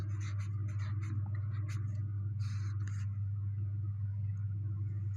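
Chalk or marker strokes as a teacher writes a number on a classroom board during a maths lesson, several short scratchy bursts over a steady low hum, no talking.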